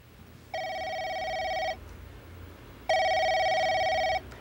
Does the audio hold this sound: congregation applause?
no